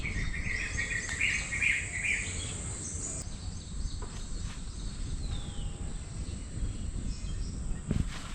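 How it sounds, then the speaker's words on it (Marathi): Birds chirp in short bursts over a rice field, above a steady bed of insect buzzing and rustling outdoor noise, moderately distant. "पप्पा तकडे पाखरा हकवतात ते बघा"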